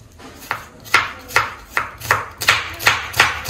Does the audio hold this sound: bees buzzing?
no